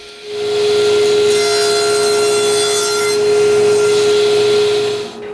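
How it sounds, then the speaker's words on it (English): A power saw cuts 45-degree miters in wood for the corners of a night stand base, a loud, steady, ringing whine that holds for several seconds before winding down. "Both front corners are made from 2 45-degree cuts."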